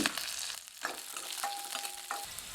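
Garlic, dry red chillies and tamarind dry roasting in a pan, giving a quiet, continuous crackle and sizzle with occasional scraping stirs, close and steady with no one speaking.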